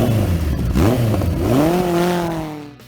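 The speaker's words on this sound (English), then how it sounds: "Suzuki GS1000." A 1978 Suzuki GS1000 four-cylinder motorcycle engine revs up, its pitch climbing and falling in a couple of smooth sweeps, loud and close, before fading out at the end.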